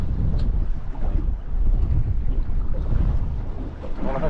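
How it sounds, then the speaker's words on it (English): Wind gusts buffet a fishing boat at sea over a shipwreck, a rough, low rumbling roar with choppy bursts and faint water noise, loud and close throughout. "the wind had dropped, it's picking up a little bit again"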